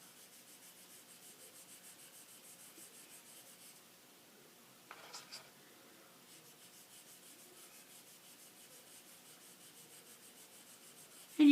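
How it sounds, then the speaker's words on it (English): Pastel chalk rubbed across paper gives a steady, soft scratchy rubbing that runs almost the whole time, with a brief quieter pause in the middle and a sharp bump at the very end. "you just rub your pastel over"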